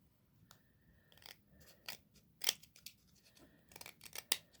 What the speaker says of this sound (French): Je le coupe encore un petit peu.